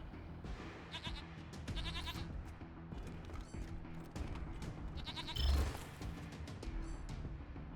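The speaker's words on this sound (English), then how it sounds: "Can you tame the goat, friend?" A goat bleats several times in short wavering cries over the busy soundtrack of the video game Wasteland 3, with low music and effects.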